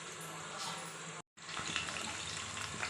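Spices hit hot oil in a pan for a Chettinad-style chicken gravy, giving a dense, even sizzling hiss that cuts out for a moment and then returns just as steady, with no talking.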